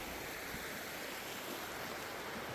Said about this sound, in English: Right by the river.